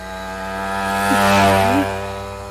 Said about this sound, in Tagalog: Yan bro, motor na naman bro.